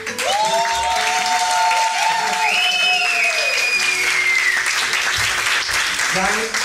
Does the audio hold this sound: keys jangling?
no